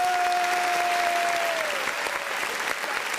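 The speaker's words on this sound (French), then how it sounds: "Applaudissez pour mes musiciens, s'il vous plaît." An audience claps for the musicians at a live music event, a dense, sustained wash of applause from a crowd, steady and fairly loud throughout, with a held tone fading beneath it.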